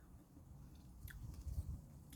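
A ripe, very sweet grape picked straight from a heavily laden vine is bitten and chewed outdoors, giving soft, faint squishy crunches up close with a quiet background.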